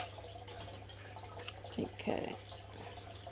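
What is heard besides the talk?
water poured from fish tank onto potted pothos plant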